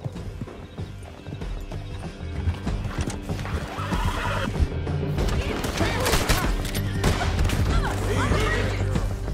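In Red Dead Redemption II, a horse whinnies and hooves clatter at a gallop amid busy game action, with occasional gunfire cracks in the background.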